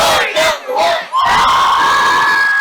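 High school football crowd cheers and shouts loudly in bursts, then swells into a sustained roar of voices with a whistle-like tone riding on top.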